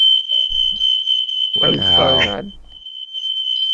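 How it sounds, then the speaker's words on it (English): A house smoke alarm set off by the oven shrills as one steady, piercing high tone for the whole stretch, loud and close, while a person speaks briefly over it partway through. "that was just a fire alarm"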